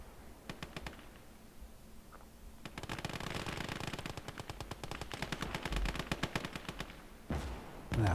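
Rapid machine-gun bursts and scattered single shots crackle in Call to Arms: Gates of Hell, a game battle in a Finnish arctic setting. The fire comes in dense rattling volleys with brief gaps, moderately loud and with no talking.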